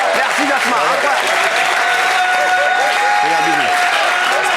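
A studio audience applauds guest Jasmin on a French TV talk show, steady dense clapping filling the room throughout, with a host's voice and cheers rising over it at moments.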